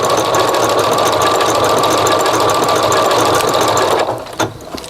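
A sewing machine stitches fabric with a steady, fast mechanical whir that runs loud and unbroken for about four seconds, then stops, followed by a couple of faint clicks.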